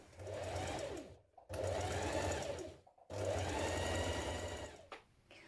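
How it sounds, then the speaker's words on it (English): Sewing machine stitching a dress hem, running in three steady bursts of fast, even whirring with short pauses between, close and fairly quiet. "Going to stitch that in place now."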